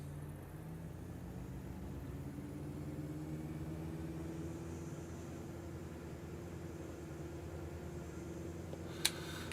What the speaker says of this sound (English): sit on the wheel brakes, let's rev it up.